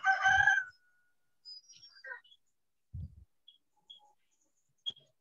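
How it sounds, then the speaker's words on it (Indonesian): A neighbour's rooster gives one short, loud crow near the start, followed by quiet with a few faint, scattered chirps and small knocks. "Soalnya tetangga ada yang melihara ayam."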